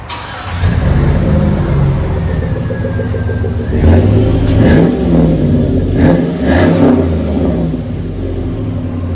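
A Chevy Avalanche 5.3L V8 revving through a Flowmaster-style exhaust, a deep idle rumble broken by several throaty throttle blips that swell and fall back, loud and close.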